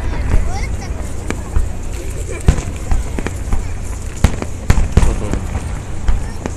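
Fireworks at the Kumano fireworks festival boom and crack in irregular bursts, some sharp and near, others duller and distant, amid crowd murmur, with someone talking over the blasts.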